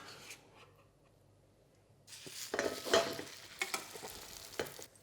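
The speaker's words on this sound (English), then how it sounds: "Just let that sizzle away." Butter sizzles steadily in a frying pan for Hong Kong French toast, faint at first and then louder with bursts of crackle and stirring scrapes, close by, no talking.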